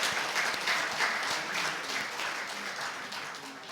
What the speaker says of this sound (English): please welcome with a thunderous round of applause, Pujya Swami Brahmviharidas